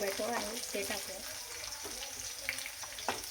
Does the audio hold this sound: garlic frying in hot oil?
yes